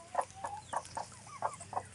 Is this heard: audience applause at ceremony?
no